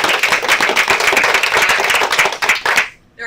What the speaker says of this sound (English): round of applause for all the educators